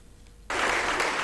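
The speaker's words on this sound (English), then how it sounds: "Students and fellow faculty members leapt into applause" Students and faculty break into applause at a professor's last university law lecture; after a quiet half-second, dense clapping erupts suddenly and continues loud and steady.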